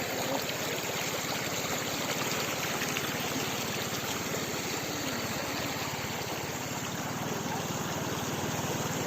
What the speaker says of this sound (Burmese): ဟိုဘက်ရေစီးနဲ့တန်တယ်